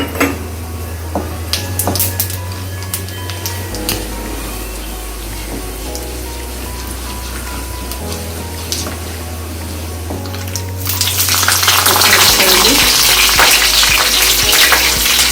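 Tempering spice seeds crackle and sizzle in two to three spoons of hot oil for a drumstick kurma, a steady frying hiss that swells sharply louder toward the end, with a low hum underneath and no voices.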